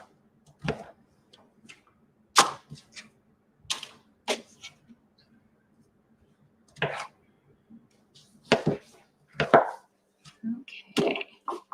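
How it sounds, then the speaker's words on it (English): Vegetables being chopped with a knife on a board at home during plant-based batch cooking, sharp isolated thuds in irregular short bursts with gaps between, close and fairly quiet. "And finish chopping these."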